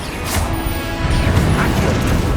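A Confringo blast spell in Hogwarts Legacy, heard as a short, loud burst with crashing, rattling debris that stays dense and noisy throughout.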